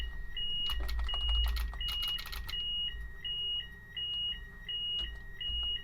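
Repeating two-tone beeping alarm in the cab of a Class 800 Azuma train in Train Sim World 2022, steady and fairly loud over a low rumble, with clicks and keyboard tapping partway through.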